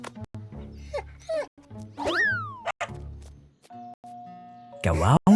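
A cartoonish dog yips and whimpers among playful sound effects and springy boings, with a voice speaking over parts of it.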